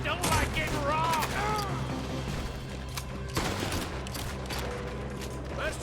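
Gunfire from Red Dead Redemption 2 during a train robbery shootout with NPC companions, with several sharp shots and bursts mixed into game noise while someone talks over the action.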